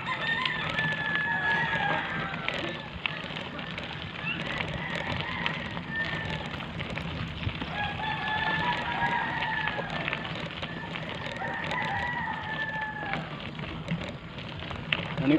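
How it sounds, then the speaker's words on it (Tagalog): Several roosters crow one after another at a moderate distance, drawn-out calls repeating over a steady outdoor hiss. "Ah, marami ka palang manok dyan."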